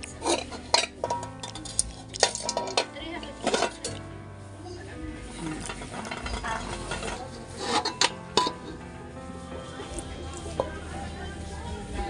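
A large metal wok being handled, clanking and scraping with sharp metallic knocks at irregular intervals, under intermittent talk.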